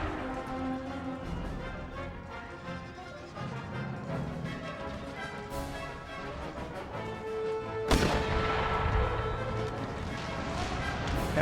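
Cannon artillery fire booms across a battlefield in the video game Empire: Total War; a heavy blast lands near the end, over constant battle din and music while someone talks.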